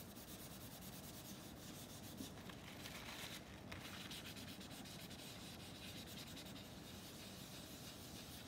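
Tissue rubbing and smoothing charcoal on a portrait drawing, a steady close, soft papery scrubbing that runs continuously without pause.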